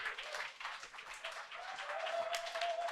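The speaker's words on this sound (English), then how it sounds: "A round of applause." Audience applause after an Ethereum panel discussion, a steady dense clapping crowd for a few seconds with no break.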